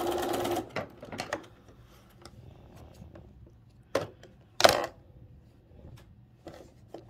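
A sewing machine stitches curved arches on a Wedding Ring quilt block, a loud opening run followed by short separate bursts and quiet pauses, nearby and with no talking.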